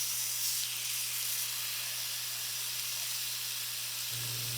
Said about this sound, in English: I'm going to make sure I get that fat cap seared